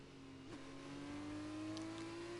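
Race car engine from an F2 feature race in Portugal in a video game: a faint, steady high-pitched engine whine that rises gradually in pitch as it accelerates, heard alone without talking.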